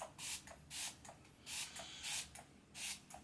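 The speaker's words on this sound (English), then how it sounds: "I'm gonna spray my brush with the MAC Fix Plus, or sorry, my face with the MAC Fix Plus" MAC Fix Plus setting spray misted onto a face in a series of short, close, breathy hisses, about seven bursts in quick uneven succession.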